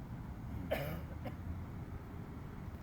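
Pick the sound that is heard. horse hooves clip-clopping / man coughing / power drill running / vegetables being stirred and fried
man coughing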